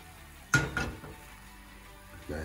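Parmesan omelette rolled against the edge of a frying pan, heard as a couple of short soft scraping knocks close by, a brief pause, then another light scrape at the end in a quiet kitchen.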